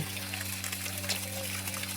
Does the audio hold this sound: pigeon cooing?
no